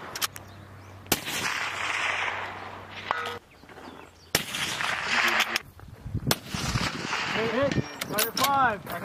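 Live-fire military training exercise at a US base in Japan: sharp gunshot reports crack out at intervals, some loud and close, echoing over an outdoor range while people talk and shout commands.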